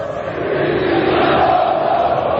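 Flamengo supporters in a stadium crowd chant steadily in unison to taunt rival Vasco fans during a derby match, a dense, continuous roar of massed voices that holds throughout.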